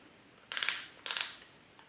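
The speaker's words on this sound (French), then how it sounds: "Pour replacer notre mandrin, on le remet en position et on vient bloquer donc la bague de serrage." Chuck clamping ring on a Triton T12 drill-driver being tightened: two quick close ratcheting bursts of clicks, each about half a second long, with a short pause between them in a quiet room.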